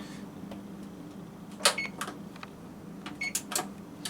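Electronic oven control buttons are pressed to start preheating, giving a few short, faint beeps and clicks over a low background hum.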